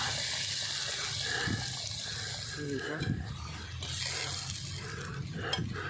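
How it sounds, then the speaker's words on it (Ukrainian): Hot water from a kettle is poured over meat in a pot while plov is being cooked, giving a steady, close rush of splashing and bubbling that runs the whole time with a few clinks. "Заливати води треба так, щоб на два пальця закривало м'ясо."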